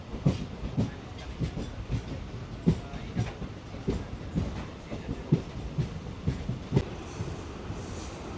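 A MEMU passenger train runs on tracks between Coimbatore and Dindigul, its wheels beating a steady clickety-clack rhythm of regular thumps over a rumbling roll, with no voices.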